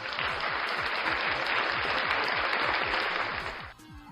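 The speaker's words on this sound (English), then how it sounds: "we'll give them a round of applause." A crowd claps in dense, steady applause for several seconds before it abruptly cuts off, leaving a faint tone behind.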